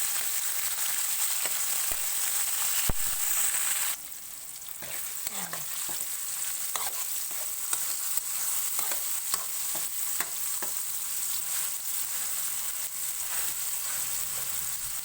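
Onions and tomatoes sautéing in a pan for stingray adobo, a continuous bright hiss of frying with scattered light stirring clicks, briefly louder at the start.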